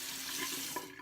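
Warm tap water runs steadily into a sink while a straight razor is rinsed, a continuous close splashing hiss that briefly eases near the end.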